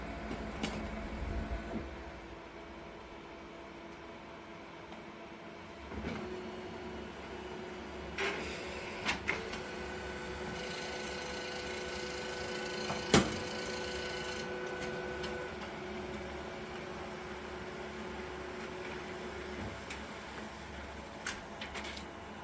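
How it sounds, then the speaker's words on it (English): A white toner printer prints a shirt transfer, running with a steady mechanical whir and hum, punctuated by clicks and clunks, fairly faint and with no talking. "So now I'm gonna send it to the printer."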